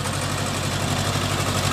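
A Swaraj 724 XM Orchard mini tractor engine runs steadily while churning mud in a wet field, giving a continuous low, even rumble with no breaks or speech.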